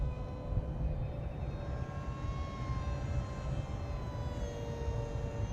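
A large 80% scale Mini Explorer RC model plane flying overhead, its engine a faint, steady drone with a slowly shifting whine throughout.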